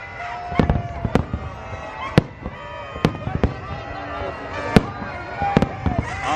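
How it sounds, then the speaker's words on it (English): New Year's Eve 2022 fireworks at Disney World, loud booming bursts at irregular intervals with crackling trails, while people nearby talk and exclaim over the show. "That is an incredible amount of fireworks."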